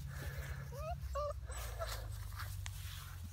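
Bernedoodle puppies whimper and yip close by in several short high squeaky cries over a low rumbling background, with faint panting between them.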